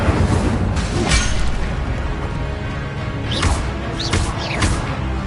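Incendio fire spell cast in Hogwarts Legacy, a loud burst of fiery booms with several sharp whooshing flares in quick succession over a rumbling background.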